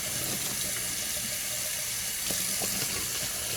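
Tap water runs steadily into a sink while bottles are rinsed out, a constant close splashing hiss with faint knocks of the bottles under the stream.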